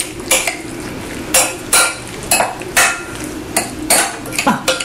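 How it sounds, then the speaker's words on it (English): Tomatoes and extra virgin olive oil tossed together in a bowl for bruschetta, a spoon scraping and clinking against the dish in about eight steady strokes, close and clear with no talk. "Now then, we're going to mix this just like that."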